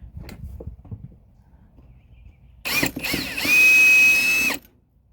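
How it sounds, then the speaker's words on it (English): A power drill whirs up in a short burst, then runs steadily at high speed for about a second before stopping; quiet handling noises come before it. "And I drill a hole,"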